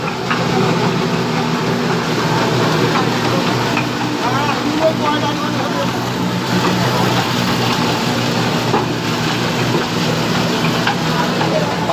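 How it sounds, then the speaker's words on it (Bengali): A large mustard oil mill machine runs in a workshop, giving off a dense, continuous mechanical rumble and clatter with a steady droning hum, loud and close, while someone talks over it. "আমাদের বড় অয়েল মিল আছে আমাদের এই যে মিল চলতেছে"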